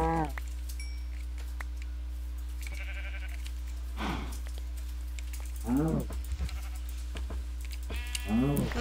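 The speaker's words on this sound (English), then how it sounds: "I'm not sure about these new cow sounds. I like the snorting sound." Cows in the Minecraft video game make a handful of separate lowing, bleating calls spread out with gaps between them, over a steady low background hum with no talking.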